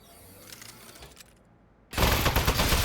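Gun firing in the video game Aperture Desk Job: after a quiet stretch, a sudden loud burst of rapid automatic fire erupts and keeps rattling densely to the end.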